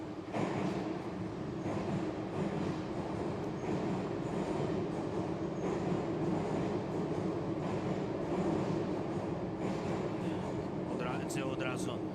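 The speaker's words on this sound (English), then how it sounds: "so let's listen to the subway" A subway train rumbles past in a steady, fairly faint roar with rattling wheels and a brief squeal near the end, heard from a station setting with indistinct background voices.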